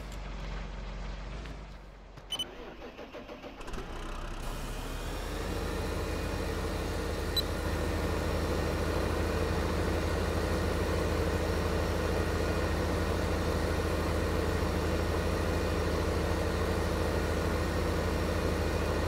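Tractor engine idling in the video game Farming Simulator 15, a steady low rumble that settles into a constant drone after a brief burst of shifting noise at the start, heard alone with no talk.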